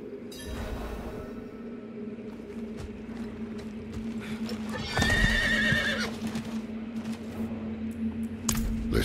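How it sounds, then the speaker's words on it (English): Horses in the video game Diablo 4 clip-clop steadily over a low ambient drone, with a loud close whinny rising midway through and more hoof and tack noises near the end. "Let's get the horses ready."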